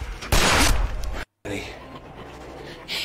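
Bursts of gunfire in The Complex, a loud cluster of shots up front, a brief dropout of silence, then fainter game sounds with voices talking over them.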